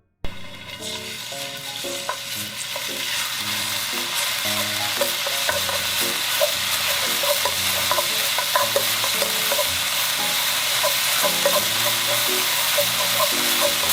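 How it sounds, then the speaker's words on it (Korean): A spoonful of garlic fries in a generous splash of oil for an eggplant stir-fry, a continuous bright sizzle with spatula stirring and scraping, close and fairly loud. "마늘 한 스푼을 먼저 넣어서 볶아주세요"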